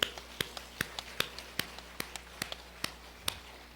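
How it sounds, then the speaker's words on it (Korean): A church congregation claps in a slow, even rhythm of distinct handclaps, each sharp and separate, heard at a moderate distance in a quiet hall. "우리 믿는 사람 하나님께 박수를 하고요."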